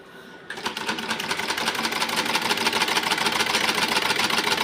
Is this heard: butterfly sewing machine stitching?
yes